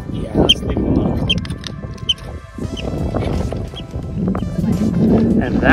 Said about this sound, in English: that noise you're hearing is a marmot in that underneath that rock